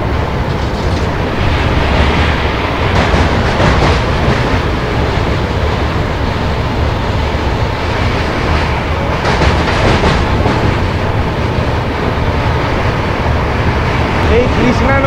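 Howrah–Tiruchirappalli superfast express train rolling along near the Krishna River, with a steady loud rumble and rhythmic clickety-clack of the wheels throughout, and faint voices in the carriage.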